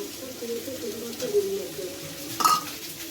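Ginger and garlic go into hot oil for an egg curry, with a short burst of sizzling and a stirring scrape, close and fairly quiet, partly under a speaking voice.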